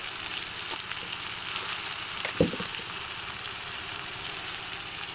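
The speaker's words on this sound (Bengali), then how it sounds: "এভাবে ভাজি করার জন্য সবসময় উচ্ছেটাকে হচ্ছে আগে একটু আলাদা করে ভেজে নেই" Bitter gourd fries with turmeric in a pan, giving a steady, loud, close sizzle and crackle that runs throughout, with a brief clatter partway through and no voices.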